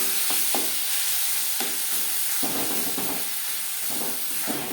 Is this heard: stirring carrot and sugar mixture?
yes